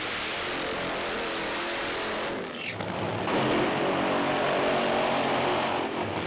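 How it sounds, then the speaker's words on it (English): Broadband roar of the Undertaker funny car, driven by Steve Ashdown, firing up in the right-hand lane at Santa Pod Raceway during a Euro Funny Car Series drag meeting, jumping sharply in loudness and holding steady and loud. "So Steve Ashdown in the Undertaker fires up in the right-hand autoglim lane"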